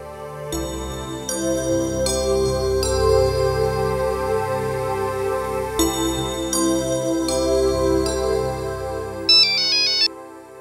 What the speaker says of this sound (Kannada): ಹಾಗೆ ಶರಾವತಿ ಮೇಡಮ್ ಒಂದು ಫೋನ್ ತಗೊಳ್ಳಿ.